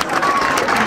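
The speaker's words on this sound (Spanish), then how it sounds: "Vamos a brindarle un fuerte aplauso a Papá Dios." Audience applause at a Colombian comedy show, a brief burst of dense, steady clapping from a crowd.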